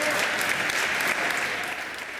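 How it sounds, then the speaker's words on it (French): Members of the National Assembly applaud after a motion on women's rights passes unanimously: brief, steady, dense clapping filling the chamber. "Tout le monde applaudissait."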